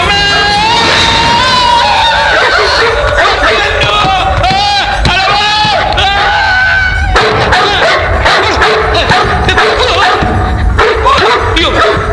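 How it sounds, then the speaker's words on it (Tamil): Dog barking inside a house during a Tamil film scene, loud excited yaps and whimpers mixed with frantic shouting voices and background score. "நாய் வந்திருக்கு வீட்டுக்குள்ள"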